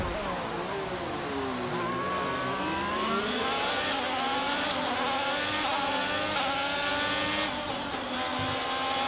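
An F1 car engine in the F1 22 video game screams through the Monaco tunnel behind a teammate, a loud sustained high-revving whine with rising and falling pitch as gears shift, no talk.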